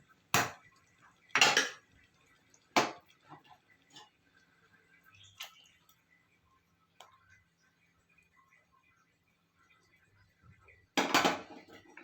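A spoon stirs buttermilk into majjige sambar with bottle gourd in a pot on a switched-off stove, giving a few sharp metallic clinks spread across a quiet stretch, close but faint.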